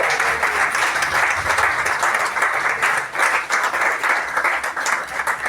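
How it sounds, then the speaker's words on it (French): An audience applauds at a book signing for a literary work, sustained clapping from a crowd that swells and eases slightly over several seconds with no speech. "professeur Christine Nguéné, qu'on applaudit toujours."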